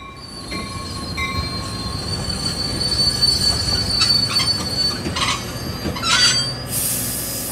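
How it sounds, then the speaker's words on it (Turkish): A train arrives with its metal wheels squealing loudly and steadily over a rumbling roll of railcars, with the shrill screech rising toward the end and no voices. "bir akşam trenle İstanbul'a geldi"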